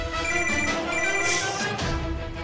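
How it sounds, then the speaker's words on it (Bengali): A mobile phone rings steadily with an incoming call, its bright repeating ringtone tones loud and close, with no talking over it. "অঙ্কুরটা ফোন করছে"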